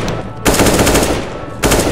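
Rapid automatic gunfire from a CS:GO zombie escape mod map set in an undersea temple, loud dense bursts with a short gap before a second sustained volley.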